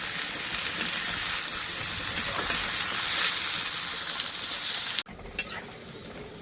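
Vegetables for chow mein frying in a pan, a steady close sizzle with stirring for about five seconds before it drops sharply to a faint hiss.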